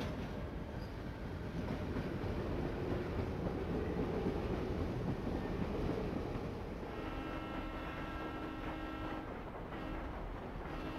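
Steady rumble of a moving train in Professor Layton and the Diabolical Box, continuous and fairly loud throughout, with a faint tonal hum appearing toward the end and no talking.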